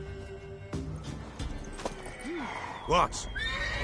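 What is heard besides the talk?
horse (mare) neighing in The Witcher video game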